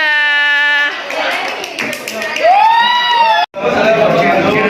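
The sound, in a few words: applause for a class group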